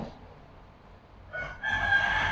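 A rooster crows once, fairly near and clear, rising out of a quiet rural background toward the end after a brief softer lead-in.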